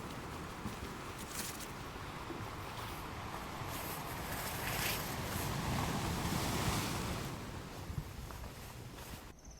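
Pacific Ocean waves and surf at the open tip of Cape Lookout on the Oregon coast, a steady wash of broken surf that swells louder midway, with wind buffeting the microphone.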